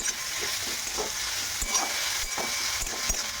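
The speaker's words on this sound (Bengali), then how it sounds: "পেঁয়াজের সঙ্গে খুব ভালো করে এটাকে ভেজে নেব।" Paddy straw mushrooms frying with onion in oil, a constant hissing sizzle with faint intermittent stirring knocks and scrapes underneath, no speech.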